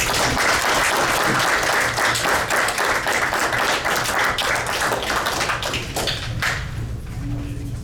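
Attendees at a city council meeting applaud in a loud, close round of distinct claps that thins toward the end, with a few stray claps and a brief hum as it fades.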